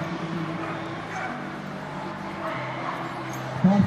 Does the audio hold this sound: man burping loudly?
no